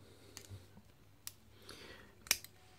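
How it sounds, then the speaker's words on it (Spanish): Scissors on a Victorinox Swisstool multitool give a few faint, sparse metallic clicks close by, ending in one sharper snap, with quiet between them. "Estas son las tijeras de la Switch Tool."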